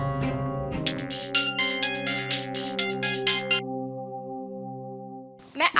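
A phone ringtone plays as an incoming call arrives indoors, a steady melodic tone holding for several seconds alone, with a brief louder burst near the end.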